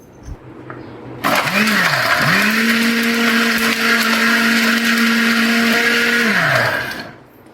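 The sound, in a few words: blender grinding a drink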